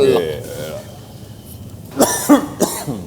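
A person coughs and clears their throat in a few rough bursts near the end, close to the microphone, following a stretch of low indoor background noise.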